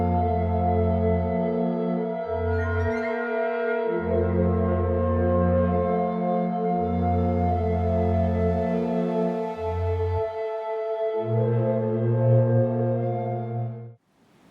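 Layered flute music loop with distorted bass recorder chords, a flute-sample synth drone and a granulized flute on top, sustained low chords changing every couple of seconds under a steady airy texture, loud and close, ending abruptly.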